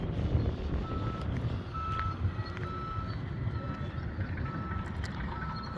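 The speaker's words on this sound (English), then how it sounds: "Hear all the construction going on over there." Construction site noise with a truck's reversing beeps repeating over a steady rumble of heavy machinery and engine drone, heard from some distance outdoors near a shopping outlet center.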